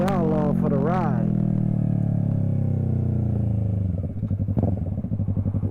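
A Yamaha R3 motorcycle engine drones steady and close while riding, someone talking over it at the start, then the pitch drops and a pulsing idle-like rumble takes over near the end.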